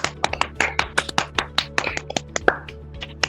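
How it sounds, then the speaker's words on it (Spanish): Scattered, distinct hand claps from a small group of participants on an open online call at a bicentennial event, sharp individual smacks in an uneven rhythm over a low steady hum. "Vamos a aplaudirnos"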